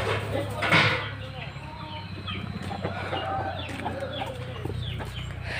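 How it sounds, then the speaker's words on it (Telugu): Free-range chickens cluck and a rooster calls outdoors, the birds close and steady throughout, with a louder squawk near the start and low background noise. "బయట ఫ్రీ రేంజ్లో తిరిగి కోళ్ళు మొత్తం."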